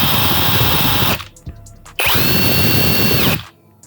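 A Mollar CIW 21500 impact wrench runs at low speed, a loud close motor whine that cuts off briefly, spins up again for over a second, then stops.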